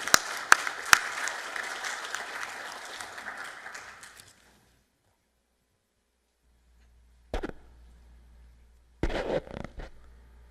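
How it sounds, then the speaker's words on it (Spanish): Warm audience applause welcomes an engineer at an evening book presentation: a full, crackling round of many hands, with a few sharp louder claps, that fades out after four seconds into near silence broken by brief clattering knocks. "Recibamos al ingeniero Morales con cálidos aplausos"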